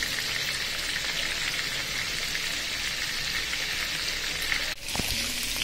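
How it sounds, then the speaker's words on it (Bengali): Chicken pieces fry lightly in oil for yogurt chicken, a dense continuous sizzle like rain on a surface that holds steady and briefly drops out near the end. "দই চিকেন করার জন্য আমি চিকেনগুলো হালকা তেলে ভেজে নিচ্ছি"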